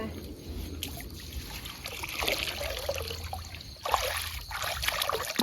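Hands are washed in water during a shrimp-trapping outing, a continuous close splashing and trickling with outdoor background noise and occasional voices.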